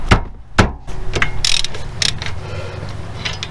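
A 19mm wrench works a car's front brake caliper bolt, sharp metallic clanks and ratcheting clicks up close, followed by rattling mechanical handling noise.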